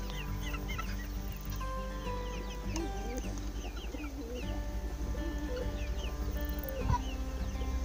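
A flock of chickens clucks and murmurs steadily, with scattered chirps from chicks newly mixed into the flock and soft calls overlapping against a constant low hum.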